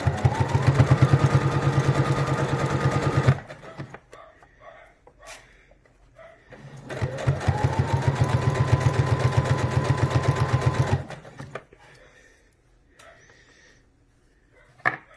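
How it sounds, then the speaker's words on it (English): A sewing machine stitches binding onto a fabric face mask in two loud, steady runs of rapid needle chatter, each several seconds long, separated by quieter pauses with faint handling noise. "Stitching right up onto the mask as we did before."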